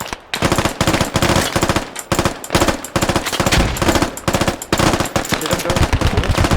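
Rapid, close gunfire from a shooting video game, with dense bursts of shots crackling almost nonstop in a loud, rhythmic barrage.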